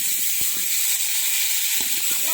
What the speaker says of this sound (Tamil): தக்காளி போட்டு வணக்கலாம்